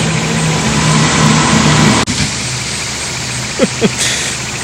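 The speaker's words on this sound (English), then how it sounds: "Here comes a fire truck." A fire truck pulls up and settles into a steady mid-pitched idle, loud and close, with a sharp thump partway through and a couple of brief clanks near the end.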